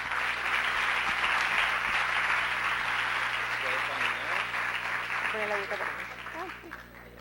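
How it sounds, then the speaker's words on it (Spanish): An audience claps in warm, sustained applause to welcome a doctor to the stage for a lecture on microbiota and obesity, fading gradually toward the end. "Vamos entonces a recibir a la doctora Luzmila con un aplauso."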